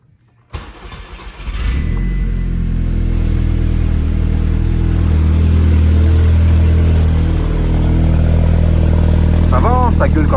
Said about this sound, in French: On va redémarrer la voiture pour voir un peu ce que ça donne.